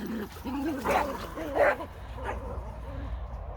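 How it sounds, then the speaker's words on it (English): Several dogs play excitedly as a third garden allotment is opened, giving a few close yips and whiny barks while a person talks over them. "The fun that my dogs have when I open the 3rd allotment."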